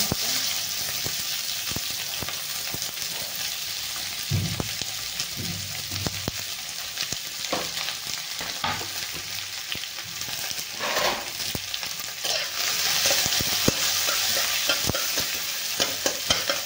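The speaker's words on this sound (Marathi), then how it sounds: "कांद्याला चांगलं मस्त लाल होईपर्यंत भाजून घ्यायचं आहे। भरपूर तळून घ्यायचा आहे कांदा आपला चांगला।" Onion frying in oil with mustard seeds and cumin for a Maharashtrian brinjal bharta, a steady close sizzle running the whole way with occasional scraping stirs of a spoon in the pan.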